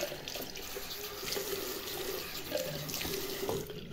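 Water runs steadily from a tap while a multi-purpose cleaner is rinsed off a surface, a continuous close splashing flow with faint clatter and no talk.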